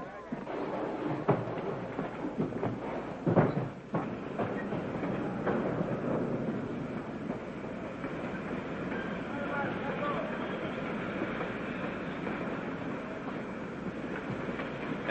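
A train rumbles along the rails with a few sharp clanks early on, then a steady rolling noise continues throughout.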